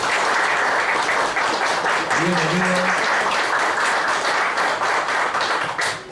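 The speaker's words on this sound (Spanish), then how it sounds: "Un aplauso para él." An audience at a talk breaks into sustained, dense applause that stays loud and steady for several seconds, with a brief spoken welcome partly buried beneath it before it starts to fade.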